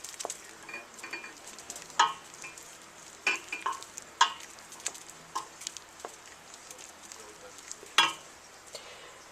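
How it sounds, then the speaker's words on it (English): Green tomato jelly mixture stirred in a pot, a soft steady scraping swirl with scattered sharp clinks of utensil against the pot, close and fairly quiet, no talking. "So we're going to stir it and stir it and stir it until it's all completely dissolved."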